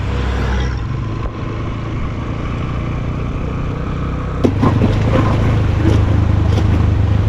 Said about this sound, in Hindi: अभी तो मैं मीनापिन बाज़ार के अंदर जो है वो बाइक चला रहा हूँ